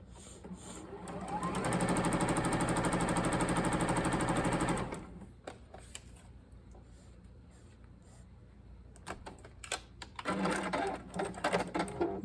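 A sewing machine runs in one steady burst for about three seconds as quilt squares for a St. Louis Star block are stitched together, loud and close, followed by quieter handling noises and a few clicks.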